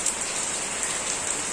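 Rain falling in a steady, close hiss of drops striking surfaces, continuous and even with a faint high ringing tone above it, no voices.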